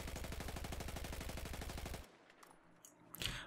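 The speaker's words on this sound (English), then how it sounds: "Let's see what sort of a spread I can get if I actually control that recoil on full auto." A sustained burst of full-auto fire from the ACE 23 rifle in Battlefield 4, evenly spaced rapid shots for about two seconds, then stopping, followed by faint shell and ambient sounds.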